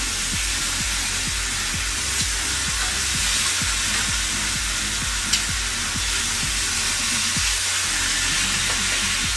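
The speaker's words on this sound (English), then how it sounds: "Popping and sizzling." Sausages sizzle and pop in a frying pan, a dense continuous hiss with rapid crackles, close and loud, no talking.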